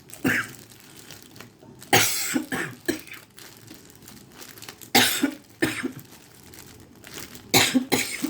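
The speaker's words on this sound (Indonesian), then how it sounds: "Masih ada sisa-sisa batuk," Several harsh coughs in irregular bursts, close by, with quieter rustling and breathing between them.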